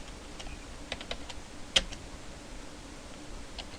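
Close, light clicking of computer keyboard keys as code is typed, a few scattered quiet taps and one sharper keystroke in a quiet room.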